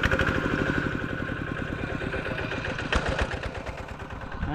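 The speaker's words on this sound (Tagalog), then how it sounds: "Papaandar ng makina." A small sprayer engine for spraying calamansi trees runs with a rapid, steady chugging clatter, close and loud, with a brief surge partway through.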